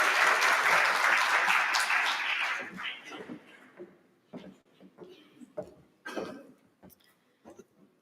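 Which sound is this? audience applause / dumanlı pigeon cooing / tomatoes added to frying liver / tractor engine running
audience applause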